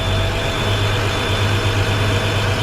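A truck engine idles in neutral with both air brakes set, a steady low rumble with a slight throttle rise, loud and continuous with no talking.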